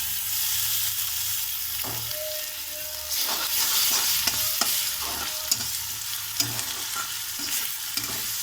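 Ginger garlic paste sizzles and fries in a pan for aloo paratha, with a steady hiss and repeated scraping stirs and small clinks of a utensil, close and alone.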